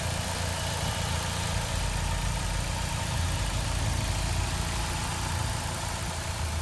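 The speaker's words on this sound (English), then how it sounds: "I also want you to see how quiet this engine is" A 2007 Saturn Sky's engine idles steadily and quietly with the hood up, a low, even hum running without change throughout.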